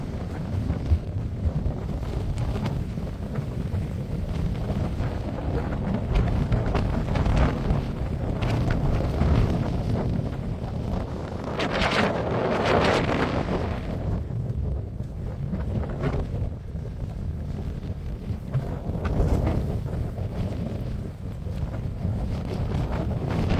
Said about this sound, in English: Probably the worst idea ever due to the wind. It was ferocious.